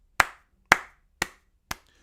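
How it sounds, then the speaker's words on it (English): Four slow, evenly spaced hand claps from a single person, sharp and close, each fading quickly into silence. "Everybody, little clap for Victor right there."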